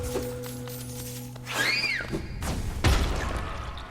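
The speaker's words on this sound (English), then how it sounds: "Those explosions totally can damage you through the wall." Dull booms from in-game explosions in Hollow Knight land behind a wall, a couple of heavy thuds following a rising chime over a steady hum of game sound.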